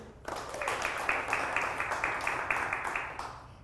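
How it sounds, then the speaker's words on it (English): An audience applauds to welcome a physical therapist speaker at a talk on the pelvic floor and TMJ. The clapping is steady and fairly dense, moderately loud, and runs for about three seconds before fading out. "round of applause for Taylor"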